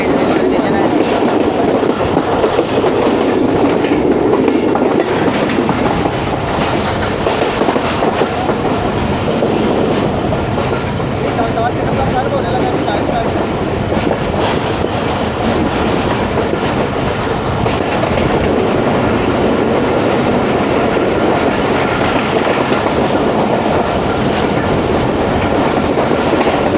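A passenger train runs on the railway between Lahore and Malakwal via Lalamusa, with a loud, steady rumble and rhythmic clickety-clack of wheels on the rails throughout, heard close from inside the carriage.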